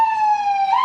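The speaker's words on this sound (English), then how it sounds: "Ambulance." An ambulance siren sounds loud and close as one steady wailing tone, held for under a second with no talk over it.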